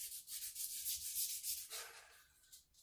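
Sandpaper roughing up a surface before painting, a close, continuous scratchy rubbing in long back-and-forth strokes that eases off near the end, with no voices.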